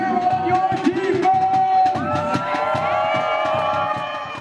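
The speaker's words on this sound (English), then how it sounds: "Kezar, cheer on your defense!" Football crowd at Kezar Stadium cheering on the defense, a lively mass of shouts and whoops from many fans, steady and moderately loud with individual voices standing out.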